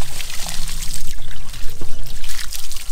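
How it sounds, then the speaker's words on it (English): Water trickles and splashes as a little is poured onto freshly sawn eastern red cedar lumber at an outdoor sawmill, a loud, close, continuous wash with a low machine drone underneath. "I'm just pour a little bit of water."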